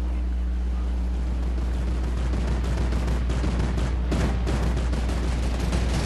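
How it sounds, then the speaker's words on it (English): Fortnite gunfire from a firefight near the hamburger landmark, a dense steady stream of shots and bursts with heavier blasts around the fourth second, over constant game noise. "Someone is no joke shooting at the hamburger."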